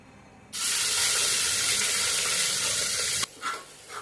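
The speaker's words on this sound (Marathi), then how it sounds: "रस्सा मटण करण्यासाठी मी कुकरमध्ये 3 पळ्या तेल टाकलेलं आहे आणि तो मसाला आहे तो आपण त्यामध्ये टाकून परतून घेऊया" Spice masala sautéing in oil inside a pressure cooker for mutton curry, a loud steady broadband sizzle that bursts in abruptly and holds for nearly three seconds, then cuts off to quieter stirring sounds.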